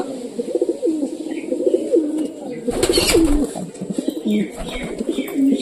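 Jacobin pigeons coo and call repeatedly in a rolling, throaty rhythm, close and clear, with a brief burst of flapping or rustling partway through.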